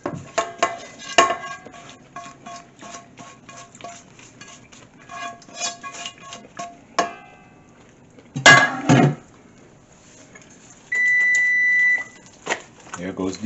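A kitchen oven beeps to signal it has finished preheating while turkey meatloaf is being prepared, a short run of thin electronic tones standing clear of quieter clinking of dishes and utensils.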